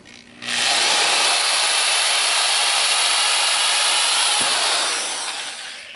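Reamer cutting through an engine valve guide, a steady loud rasping, whirring hiss that starts abruptly, holds for about four seconds, then tapers off.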